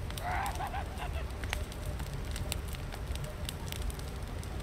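Fire crackling over a body in The Forest video game, a steady low roar with scattered pops and snaps, plus a brief honking goose-like call near the start.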